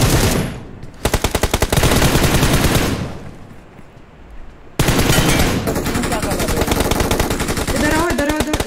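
Rapid automatic machine gun bursts from the BGMI battle royale game, loud and close, come in long sustained strings separated by a short lull, with faint voices underneath.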